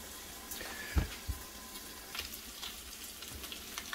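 Bacon fries in a pan with a soft, steady crackling sizzle, quiet and close, broken by a couple of dull knocks.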